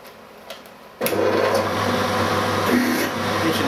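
A 7.9mm drill bit cutting metal on a lathe or drill press with cooking oil as lubricant, a steady loud whirring grind that starts abruptly after a second of quiet and runs evenly to the end.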